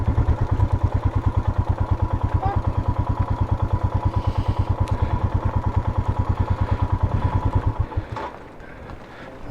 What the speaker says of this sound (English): Let's just kill the engine and let them pass.